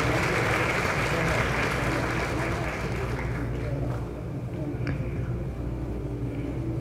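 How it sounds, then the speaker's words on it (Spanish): Applause from an audience at a professional engineering college induction ceremony, steady broadband clapping that fills the whole stretch, loud and close, with a slight dip partway through. "Aplausos, aplausos."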